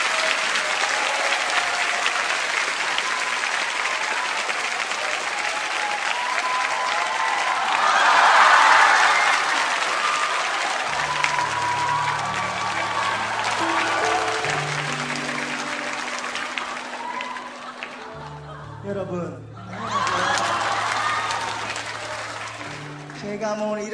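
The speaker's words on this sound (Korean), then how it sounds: "이제 우리 큰 박수를 치면 아마 나올 것 같습니다" Congregation applause in a church sanctuary during a dawn prayer service, sustained clapping that swells midway, with a low sustained musical tone entering underneath partway through and a brief break near the end.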